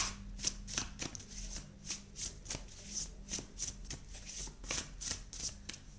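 Tarot cards are shuffled in a quiet, close series of soft flicking riffles and taps, irregular but continuous, with no one talking.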